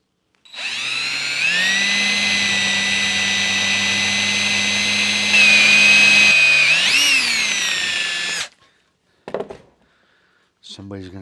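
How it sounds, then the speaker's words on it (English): A power drill whines loudly as it bores a 1/8-inch hole in sheet metal for a rivet, a sustained high pitched run of about eight seconds that rises briefly before stopping, followed by a few short clicks. "so we're going to drill an 1/8-inch hole."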